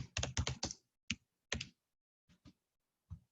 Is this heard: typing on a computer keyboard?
yes